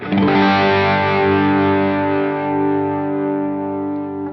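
An electric guitar chord through a captured crunch amp profile on a Quad Cortex rings out loud and sustained, crunchy and overdriven, slowly decaying over several seconds.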